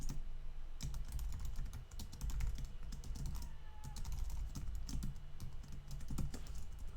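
Typing on a computer keyboard while photos for a forest garden gallery are edited and uploaded, a quiet, close run of quick key clicks in irregular bursts with no talking.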